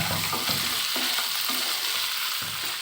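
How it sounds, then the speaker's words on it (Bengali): Fish pieces and fish head being stirred with spices in a hot pan, a steady broadband sizzle with repeated soft scraping strokes of the spatula about every half second, close and moderately loud, no talking. "তো মাছগুলো আমি একটু নেড়ে দিচ্ছি মশলার সাথে।"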